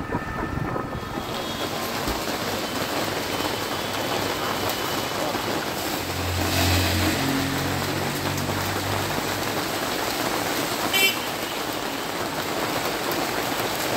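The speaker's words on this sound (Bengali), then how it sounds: "আমরা এদিকে বেরিয়েছি একটু, আর বৃষ্টি নেমে গেছে" Steady rain pours outdoors at a market, a dense even hiss of drops on surfaces holding constant throughout, with a brief low rumble swelling near the middle and a faint distant voice in the background.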